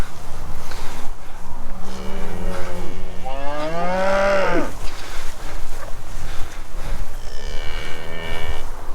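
A Jersey cow on a farm with young calves gives several long, drawn-out moos, one loud rising call in the middle and fainter ones before and after, over a steady outdoor background hum.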